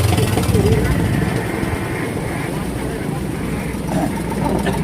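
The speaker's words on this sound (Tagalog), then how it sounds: "Ayan, nagkukondisyon na sila ng mga makina nila." Fishing boat engines warming up before heading to the fishing ground, a steady low mechanical rumble running throughout with people talking over it.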